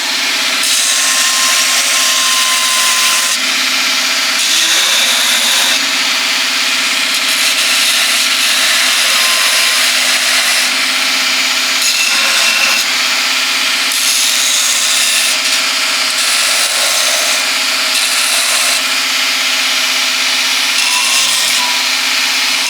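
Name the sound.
grinder removing material from a horse's hoof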